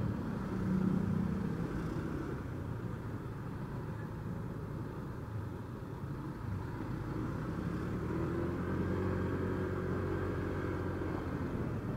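Steady city street traffic in Iloilo, a continuous blend of car and motorcycle engines idling and revving nearby, with a constant low rumble and no talk.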